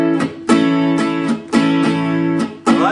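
Bar chords strummed on a guitar in a steady rhythm, with two sharp muted chucks per measure cutting between the ringing down and up strokes, close and alone.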